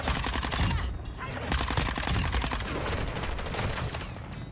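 Sustained automatic gunfire in the video game Modern Warfare 2 stays loud and dense for the whole stretch, as a continuous rattle of rapid shots.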